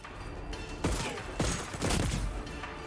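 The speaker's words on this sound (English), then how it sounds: "Shotgun! Oh yeah, this feels good, this gun." A shotgun fires in the video game Voidtrain, three or four heavy, booming blasts spaced about half a second apart, each loud and close with a short rumbling tail over background game noise.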